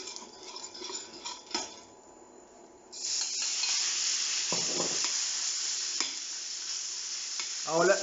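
Rump steak beef for beef stroganoff hits a hot pan, starting a loud, continuous sizzle and hiss of frying, with a few utensil scrapes and clinks as the meat is stirred.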